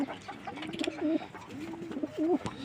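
Pigeons coo close by in two soft, rolling phrases, with faint rustling and background sounds between them.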